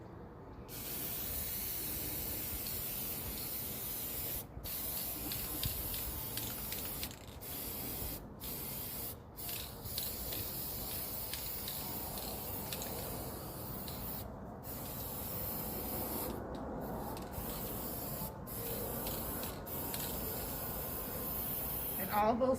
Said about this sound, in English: then just take the spray paint and just finish it off.